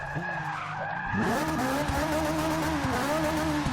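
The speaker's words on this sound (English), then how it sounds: "We've got tight gears and a lot of power going to that rear wheel" A Ferrari 458 Italia drift build in Forza 6 skids hard, its engine revving loudly with a steady high whine as the rear tires squeal through a long slide.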